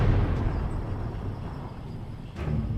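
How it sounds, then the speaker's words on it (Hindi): An ammunition wagon set on fire goes off in explosions one after another, heard as a dense, loud, continuous low rumble with a fresh burst near the end. "धमाके पर धमाके हो रहे थे"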